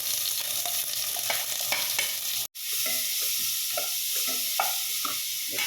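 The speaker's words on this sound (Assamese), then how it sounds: "তেলখিনি গৰম হ'ল, ইয়াতে মই এতিয়া কাটি থোৱা পিঁয়াজখিনি ঢালি দিলোঁ।" Chopped onions hit hot oil in a kadai for a fish curry, setting off a loud, steady sizzle with stirring scrapes on top and one brief dropout partway through.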